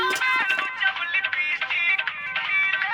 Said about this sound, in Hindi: आपके कहने पर अपना रिंगटोन बदल दिया है सर। अब सुनिए कैसा है।